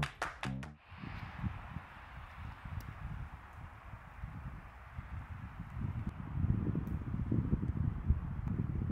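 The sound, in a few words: wind outdoors at a camper van parking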